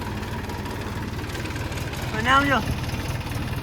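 A tractor engine, used to run a water pump that empties a tank, idles nearby with a steady low rhythmic chugging, while someone briefly speaks over it.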